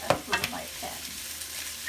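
Three handfuls of chanterelle mushrooms land in a big pan with a few soft clunks, followed by a steady, fairly quiet sizzle that hisses on evenly.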